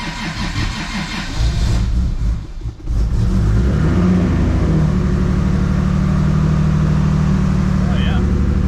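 A car engine that has been slow to fire cranks briefly, stumbles, then catches and settles into a loud, steady idle close by, with a fuel pump audible beforehand.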